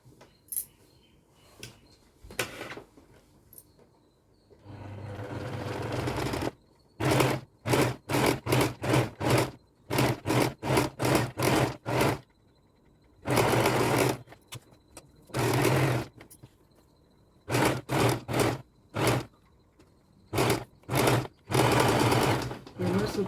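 A sewing machine stitches the lining of a blouse in many short, loud, close bursts of rapid mechanical chatter, broken by brief pauses, with one longer run near the start.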